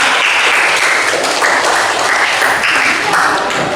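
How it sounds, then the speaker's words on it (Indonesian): A class gives a group of students a round of applause, dense and loud clapping from many hands that continues steadily throughout. "Tepuk tangan untuk kelompok 5."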